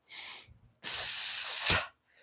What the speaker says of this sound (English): you power breathe because you want to keep that tension in your core.